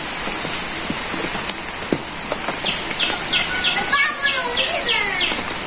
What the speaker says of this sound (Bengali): টিপ টিপ শব্দ, রিমঝিম